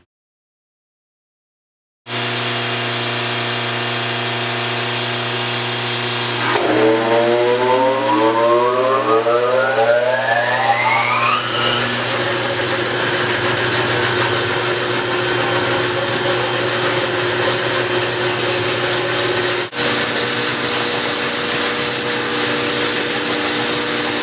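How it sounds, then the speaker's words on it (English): Loud, steady machinery hum from a 36-inch bandsaw and a rotary phase converter running continuously, with a rising whine as one spins up, then settling into a constant drone. "I've got the rotary phase converter on behind you, and of course the saw is running"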